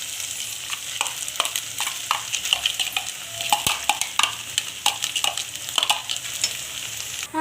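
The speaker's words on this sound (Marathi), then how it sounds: "आता आपण कांदा टाकूया यामध्ये बारीक केलेला." Chopped onion frying in ginger garlic paste for a restaurant-style chicken gravy, with steady sizzling and repeated scraping strokes from stirring throughout, close and fairly loud, with no voices.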